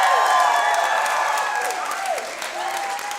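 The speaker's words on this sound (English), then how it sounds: "Besides rapturous applause from you people." A live storytelling show audience breaks into applause and cheering in a bar venue, a dense wash of clapping with whoops and shouts carrying across the room, slowly easing off.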